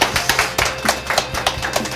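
A small lecture audience clapping for an author after a talk, with sparse, fairly close claps in an uneven rhythm that keeps going for a couple of seconds.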